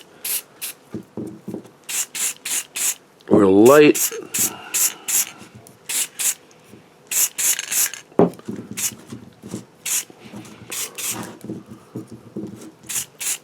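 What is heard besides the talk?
spray paint being sprayed on a prop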